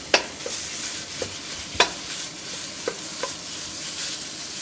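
Skinned, cut-up mild pork chorizo sizzles in a hot wok, with a steady frying hiss and several sharp scraping stirs at irregular intervals, and no talking.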